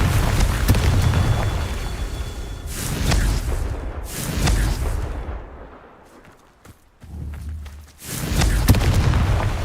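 Confringo blasting spells go off in Hogwarts Legacy as a run of loud, booming explosions with crackling debris, coming in several bursts that are broken by a short, quieter lull.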